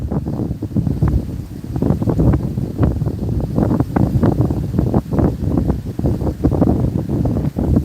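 Continuous buffeting wind noise on the microphone, a low rumbling roar with gusty bursts throughout, no voices.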